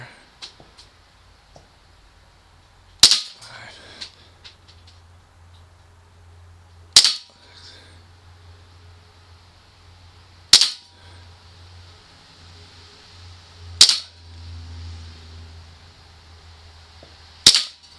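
A KWC M1911 A1 CO2 blowback BB pistol fires five sharp, loud cracks spaced a few seconds apart, each with a quick slide clack, over a quiet room with faint murmurs between shots.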